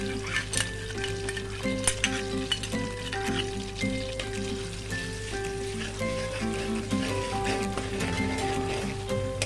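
Ginger garlic paste frying in half a cup of oil in a kadai, a steady soft sizzle with crackling pops, heard alongside faint background music at moderate level.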